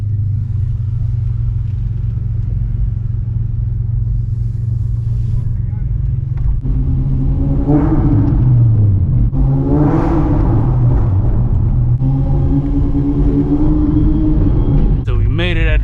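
A 460-horsepower Acura RSX drives into a parking garage, its deep engine rumble droning steadily and then swelling into several rising revs close by.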